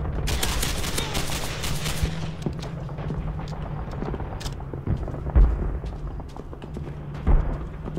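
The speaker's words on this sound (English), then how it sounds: "Oh, it's a machine gun." Machine gun fire in the Call of Duty 3 war game opens with a dense, continuous burst of loud rapid shots lasting a couple of seconds. Scattered single cracks and thumps follow over a rumbling battlefield background.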